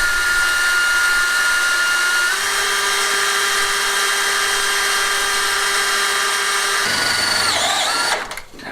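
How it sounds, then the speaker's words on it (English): A drill driving self-drilling screws runs continuously for several seconds, its pitch shifting as a screw bites in, then winds down abruptly at the end. "Just going to put some self-drilling screws right through to hold it in place."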